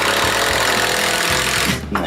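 Power drill driving screws into wood during a home renovation, a loud steady motor whine running nearly the whole time with brief dips in pitch, up close and without talk.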